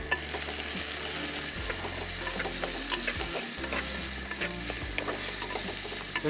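Chopped onions sauté in a hot pan for Kerala-style prawn thoran, a steady close sizzle and crackle of frying with stirring scrapes throughout, no voices.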